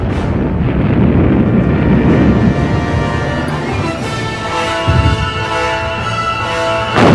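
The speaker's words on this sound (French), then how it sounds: "déclenche avec 600 canons et mortiers une contre-préparation d'artillerie qui va durer plusieurs" Heavy rumbling booms and roaring blasts of a barrage from 600 cannons and mortars at the Battle of Kursk, loud and continuous, layered with a droning, music-like tone throughout.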